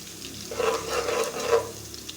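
Minced garlic frying in hot oil until light brown for a mutton kofta biryani, a steady close sizzle with a brief stir swelling in the middle.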